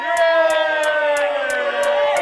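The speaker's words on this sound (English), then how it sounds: "Lively crowd, wicked massive" A lively club crowd cheers and whoops for a drum and bass DJ, a dense roar of voices over sustained tonal music with rhythmic hits, loud and close throughout.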